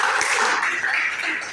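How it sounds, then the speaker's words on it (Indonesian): Applause from a small group at a family communication training session, a brief burst of clapping heard close and fairly loud before it fades. "Oke, tepuk tangan."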